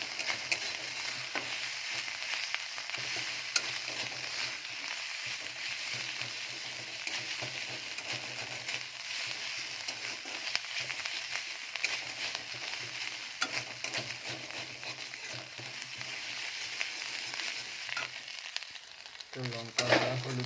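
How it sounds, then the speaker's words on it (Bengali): Ginger-garlic paste with chili and turmeric powder frying in a pan for ghugni, a continuous soft sizzle with faint intermittent stirring scrapes, fairly quiet and unvoiced. "আদা রসুনের পেস্টটা একটুক্ষণ দেওয়ার পরে লঙ্কা গুঁড়া, হলুদ গুঁড়া একবারে দিয়ে হালকা ঝোলটা দিয়ে মশলাটা কষে নিতে হবে।"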